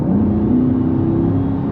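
2026 Chevrolet Corvette Stingray Z51 V8 at full throttle with an 8-speed dual-clutch, a steady loud engine drone rising slightly in pitch as it accelerates, heard close from inside the cabin.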